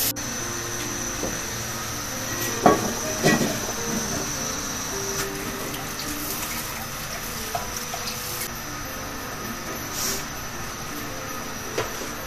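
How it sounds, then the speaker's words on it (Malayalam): Water poured into a Kerala-style snakehead fish curry seasoned with kudampuli, a soft continuous liquid wash with a few faint clinks of utensils, steady and close with no talking. "കുടമ്പുളി വറ്റിച്ച് വെള്ളമൊഴിച്ചു കൊടുക്കുക"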